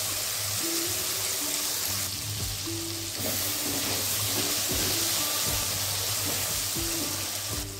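A splash of water goes into whole garam masala and spice paste frying in oil, giving a loud, steady hiss and sizzle up close, with occasional scrapes of a spoon stirring the pan.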